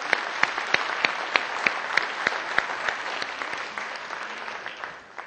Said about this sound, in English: let's give everybody a round of applause for making Glendale graffiti free.